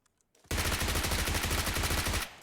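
Automatic gunfire in PUBG Mobile fires in a loud, rapid burst of about two seconds, shots tightly spaced and close, then cuts off abruptly with no talking over it.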